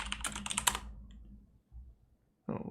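Quick burst of typing on a computer keyboard, close and crisp clicks for under a second, then near silence and a short soft shuffle before another sound starts at the end.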